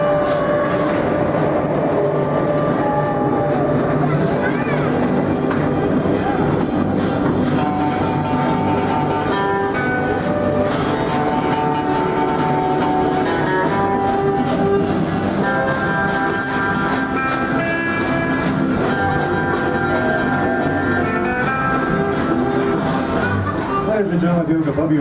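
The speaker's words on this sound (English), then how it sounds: "Train is departing Rivertown Station." The Kings Island & Miami Valley Railroad amusement park train departs Rivertown Station with a steady, close rumble and rolling rail noise for the whole stretch, with voices and tonal sounds layered over it.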